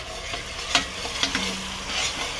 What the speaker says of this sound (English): You put in your pork. Fry it.